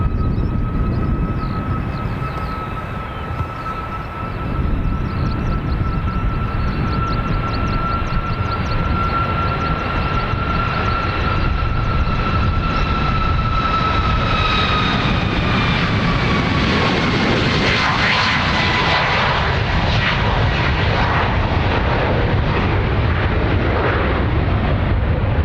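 A Ryanair jet at Dublin Airport roars steadily and loudly throughout, its engine whine holding a tone and then sliding lower as the aircraft moves past.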